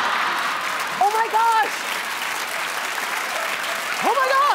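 Studio audience clapping on a talk show, sustained dense applause throughout with brief vocal exclamations rising above it twice.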